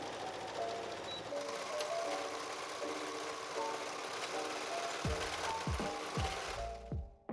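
A home sewing machine stitches along the edge of a dress fabric with a fast, even mechanical whir that runs steadily at close range, ending in a few slower clunking stitches.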